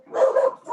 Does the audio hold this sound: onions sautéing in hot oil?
no